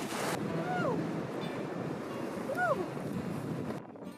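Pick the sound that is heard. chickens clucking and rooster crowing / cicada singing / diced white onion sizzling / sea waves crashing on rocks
sea waves crashing on rocks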